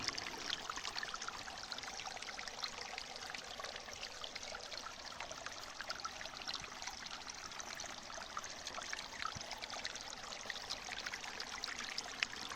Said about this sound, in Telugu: ఇక్కడ ఒక రాయి కింద నుంచి ఫ్రెష్ వాటర్ రావడాన్ని మనం గమనించవచ్చు